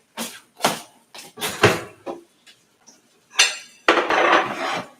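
Plates and dishes clatter as they are handled in a home kitchen, a series of sharp clinks and knocks in irregular bursts, with a longer rattling stretch near the end.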